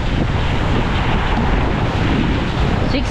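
Pacific Ocean surf with six-foot swells rolls continuously beside a boat at sea, a loud steady wash of water heavily buffeted by wind rumbling across the microphone.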